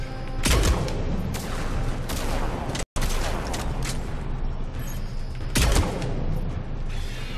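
Sniper rifle shots in the video game Mass Effect 3: three heavy booming blasts spaced a few seconds apart over constant rumbling game noise, each rolling off slowly.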